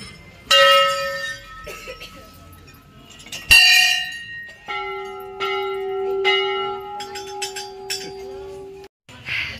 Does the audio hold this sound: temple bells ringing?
yes